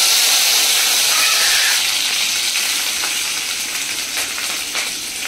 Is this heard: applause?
no